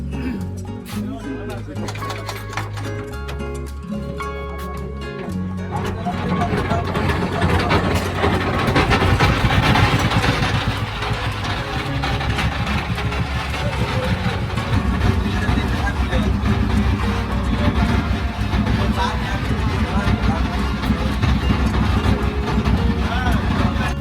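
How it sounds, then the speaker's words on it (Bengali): A trawler's engine on Kaptai Lake chugs steadily at close range, a low, even throb that carries on throughout while a voice talks over it. "ইঞ্জিনের ভটভট শব্দেই শুরু হলো আমাদের কাপ্তাই লেক ভ্রমণ"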